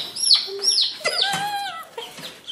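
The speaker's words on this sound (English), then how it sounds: "So those are baby turkeys." Baby Silver blue slate turkeys give several high, rising peeps and chirps close up, in quick overlapping bursts with small clucking sounds between them.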